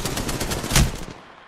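Rapid automatic gunfire in a shooter video game, a fast even rattle of close shots that swells to a peak and then cuts off, with no talk over it.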